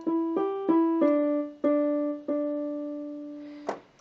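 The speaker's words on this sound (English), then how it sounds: "The legato marking looks like this." A series of piano notes played in a smooth, connected line, each ringing into the next, ending on a final struck note.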